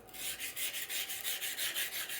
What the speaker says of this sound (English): Just going to take a sanding block here and sand my edge a little bit better